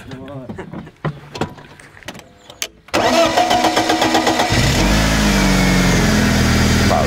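A Mercedes-Benz W220 500 engine cranks a few times, catches, and settles into a loud, steady idle close by, with talking over the starting.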